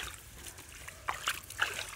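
Water splashes and trickles outdoors during play, a few faint light splats and drips close by against quiet background.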